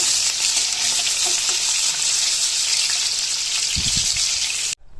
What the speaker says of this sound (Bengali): ভাজা করে নেব রান্না করার জন্য।